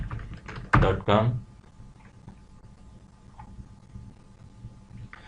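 A short run of quick keystrokes on a computer keyboard clatters close by, then gives way to near-silence with a few faint ticks.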